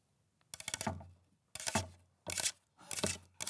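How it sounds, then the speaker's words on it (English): Paperclips tap and rattle against a cutting board in four separate bursts, each a crisp, scratchy clatter of small metal pieces, close up and fairly quiet, with short pauses between. "the sound of paperclips on a cutting board"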